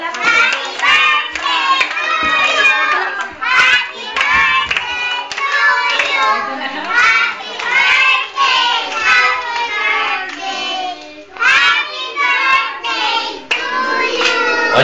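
At a child's birthday party, a group of kids and adults claps along while singing together, close and loud. Steady rhythmic hand claps run under lively voices for the whole stretch, with brief pauses between phrases.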